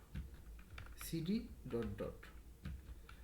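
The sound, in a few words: typing a command on a computer keyboard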